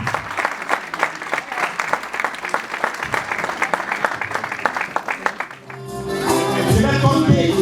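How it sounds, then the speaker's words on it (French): Wedding guests break into sustained applause to cheer someone on, a dense steady clapping that fades around the five-second mark and gives way to murmuring crowd noise. "On applaudit pour l'encourager"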